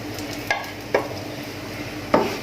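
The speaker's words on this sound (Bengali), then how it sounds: "এখানে আমি 2 প্যাকেট লাচ্ছা সেমাই নিয়েছি, সেটা আমি ঘিটার মধ্যে দিয়ে দেব" Lachha semai vermicelli going into hot ghee, with a faint steady sizzle and three sharp clatters of stirring or tossing spaced across the clip.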